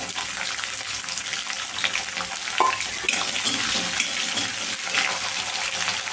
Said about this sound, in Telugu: కొంచెం కరివేపాకు ఉల్లిపాయ మెత్తపడేదాకా వేయించుకోవాలి